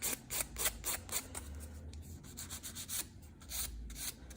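A hand file rubs back and forth across a fingernail in quick, rhythmic, close-up scraping strokes, soft and gritty, with a brief pause between bursts.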